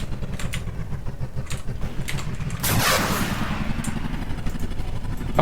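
A loud burst of Roblox gunfire erupts midway during an armored patrol, layered over a steady mechanical engine drone and clanking noise.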